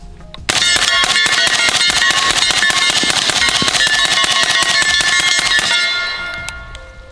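Rapid string of suppressed .300 Blackout rifle shots fired back to back for several seconds, a dense crackling volley that stops abruptly with a short ringing tail.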